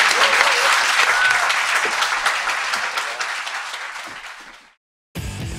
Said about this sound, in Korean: 두 분에게 박수 부탁드립니다.